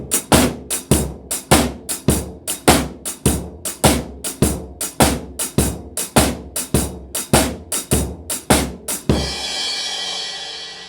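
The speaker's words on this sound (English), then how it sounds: "A shuffle pattern will sound like this." A shuffle pattern on a drum kit, with a swung, lilting rhythm of sharp drum hits and cymbal strokes, played close and loud, finishing on a sustained crash cymbal that fades out.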